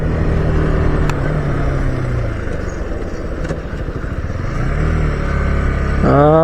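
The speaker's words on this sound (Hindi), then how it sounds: "बाइक तो काफ़ी स्मूथली चल रहा है भाई, तो बहुत ही बढ़िया चल रहा है" Motorcycle riding along a road on a touring trip from Mysore to Mudumalai, a steady low engine drone with wind and road rumble, swelling briefly near the end as the engine pulls harder.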